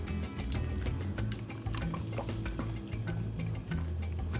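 Spiced rum cocktail stirred over ice in a glass, a steady run of small ice clinks and clicks repeating close up, fairly continuous for a few seconds with no voices.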